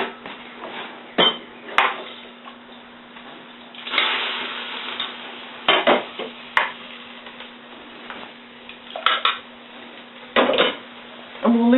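Bone broth ladled into a pot of miso-style soup with coriander, a series of sharp metallic clinks and knocks of the ladle against the pot, with sloshing and pouring between them and no talk.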